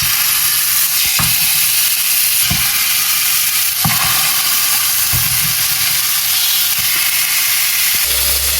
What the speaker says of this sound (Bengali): এবার আমি চিকেনগুলো ভেজে নিব।